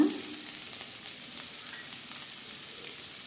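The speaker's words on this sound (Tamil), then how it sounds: "வெங்காயம் நல்லா வதங்கட்டுங்க." Onions and curry leaves fry in a pan with a steady, close hiss that holds evenly throughout, with no voices.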